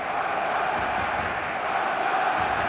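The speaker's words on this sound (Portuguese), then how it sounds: "A torcida não para de cantar." A packed stadium crowd at Camp Nou in the eFootball 2022 video game roars and sings in a steady, dense wash of noise, loud and continuous with no breaks.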